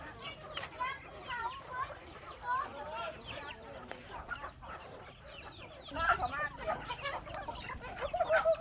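Hundreds of chickens cluck and squawk close by in a busy, overlapping chorus, with occasional louder calls toward the end and people talking faintly underneath.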